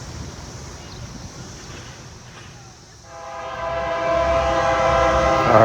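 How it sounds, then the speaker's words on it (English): A stone freight train approaches and passes close by, its loud multi-tone horn sounding steadily over a growing rail rumble and wind noise. "Here comes that stone train."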